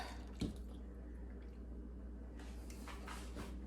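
Buttermilk is poured into biscuit dough in a home kitchen: a soft splash at the start, then a quiet, continuous trickle and light liquid pattering, faint and close, with no talking.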